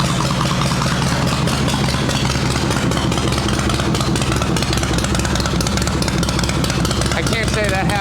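A Harley shovelhead chopper engine idles after a single kick start, a steady low rumbling throb that runs loud and continuous throughout, with the uneven pulsing of a big V-twin.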